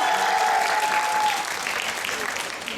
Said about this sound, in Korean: 여러분, 이분 긴장하지 마시라고 박수 한번 보내드릴까요?